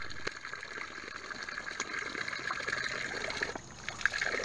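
Water from a spring under the ground trickles and gushes steadily at close range, a faint, continuous splashing with a few sharp drips and clicks on top.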